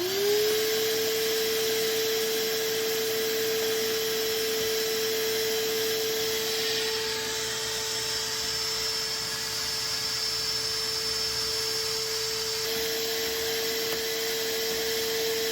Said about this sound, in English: he's going to use the vacuum cleaner to suck it all out